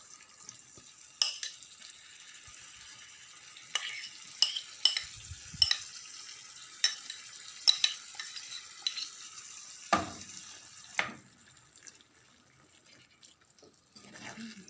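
A fava bean dish with onion is stirred in a pan, with soft frying in the background and repeated spoon scrapes and taps against the pan, close and irregular, with no talking.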